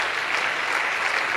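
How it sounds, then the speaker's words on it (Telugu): A church gathering's audience claps steadily and evenly, a short, dense wash of applause close by with no pauses. "చప్పట్లు కొట్టి ప్రోగ్రాం వారికి."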